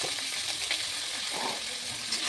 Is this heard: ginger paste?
yes